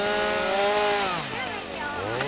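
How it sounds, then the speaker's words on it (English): Chainsaws cut wood alongside a running lawn mower, a loud steady engine drone with shifting pitch that dips as the blade bites in, close by throughout. "We have our chainsaws."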